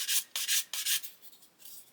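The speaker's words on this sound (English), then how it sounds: "So this sanding stick has seen better days" A worn sanding stick rubs back and forth along the seam of an Airfix 1/72 Lancaster B.III plastic model, giving several quick, close, raspy strokes that fade slightly toward the end.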